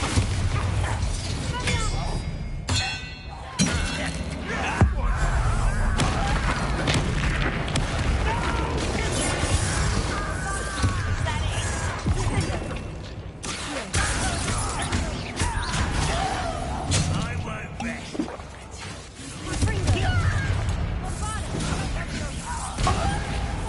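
A Confringo spell explosion in Hogwarts Legacy combat bursts out loudly amid dense battle noise, with repeated booms and crashes under overlapping voices and music.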